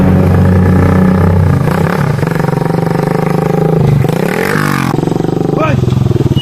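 A motorcycle engine revs loud and close, its pitch rising and falling through steady throttle blips, with people talking over it.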